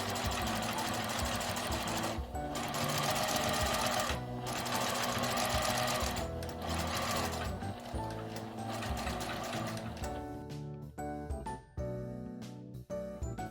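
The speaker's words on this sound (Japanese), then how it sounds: "縫い始めは留め具のところから返し縫いをします" A sewing machine backstitches a quilted tablet case at the clasp. Close, loud bursts of rapid stitching stop and start, ending in short stuttering stitches.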